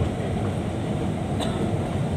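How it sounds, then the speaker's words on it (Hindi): The interior of an air-conditioned Lahore metro bus on the move gives a steady, loud rumbling road and engine drone with faint rattles and no clear talk. "चुंगी जा रहे हैं मेट्रो बस के ज़रिए"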